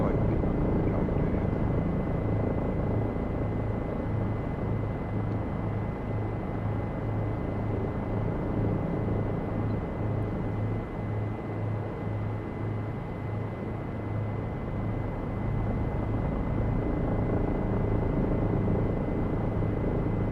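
Bell 407 helicopter in a flight simulator game, its turbine engine and chopping rotor making a constant loud droning hum with no break.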